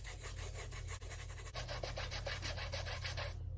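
Rhythmic brush scrubbing on the trim of a Vans shoe, a fast run of close, regular rasping strokes with a brief pause partway, no voices.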